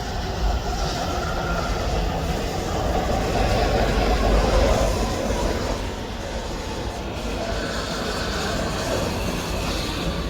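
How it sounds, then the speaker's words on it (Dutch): A Dutch metro train rolls in with a loud, steady rumble and wheel noise that swells and then eases slightly as it slows. "Daar komt de metro die mij naar Zuid gaat brengen"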